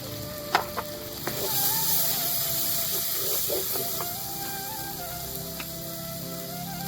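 Shrimp curry frying in a pan as turmeric and chili powder go in, a few clinks of a utensil, then a loud, steady sizzle and hiss that carries on to the end.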